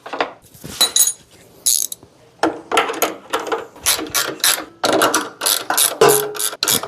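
A ratchet wrench with a 14 socket tightens bolts during a servo motor and needle position sensor install, giving repeated bursts of loud, close, rapid clicking with short pauses between strokes.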